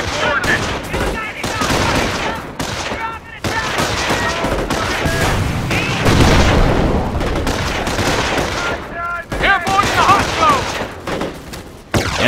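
Gunfire in the World War II strategy game Company of Heroes, set during the Normandy invasion: sustained bursts of rifle and machine-gun fire with occasional booms, loud and dense throughout, mixed with voices calling out over the battle.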